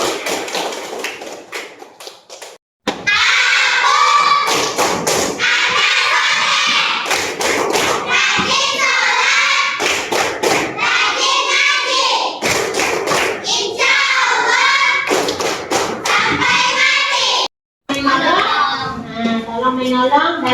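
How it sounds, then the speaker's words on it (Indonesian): A class of children in a school lesson claps together in long bursts of dense, loud applause, with short pauses between the rounds and children's voices mixed in. "Tepuk tangan."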